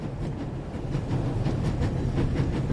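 A rocking train in The Raven Remastered rattles steadily, a continuous low rumble with faint rhythmic clicking of wheels on track, close and even with no talk.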